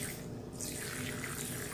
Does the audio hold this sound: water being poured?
yes